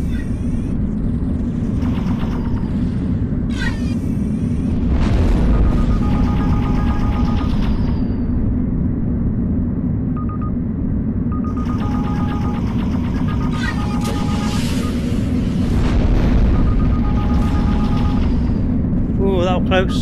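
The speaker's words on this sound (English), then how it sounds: "Wow, that's a cool explosion." Spaceship combat in the VR game Endspace rumbles with low booming explosion throbs and a steady engine hum, while speech runs over the top and brief electronic game tones sound at intervals.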